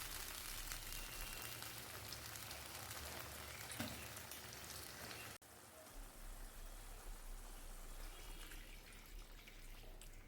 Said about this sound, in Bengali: সামান্য কিছুক্ষণ আমি এটাকে কষিয়ে নিচ্ছি